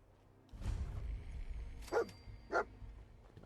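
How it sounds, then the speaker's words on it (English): A dog barking in the Fallout 4 video game, two short alert barks spaced apart over low game ambience and a rustling thump. "Yep, alerted bark."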